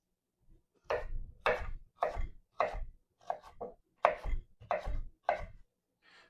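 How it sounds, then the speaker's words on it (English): A knife slices zucchini into noodles on a cutting board, about nine crisp, evenly spaced chops close up against an otherwise quiet background. "you want to keep your knuckle basically right against the knife while you're cutting"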